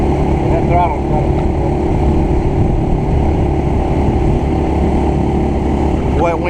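A motorboat engine drones steadily and loudly during a throttle test on the water, with strong wind buffeting the microphone and brief voices over the constant hum.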